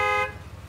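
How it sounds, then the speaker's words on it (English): An animated car horn blasts in one brief, loud, harmonic honk that cuts off after a quarter second, leaving a low rumble underneath. "Honking doesn't help."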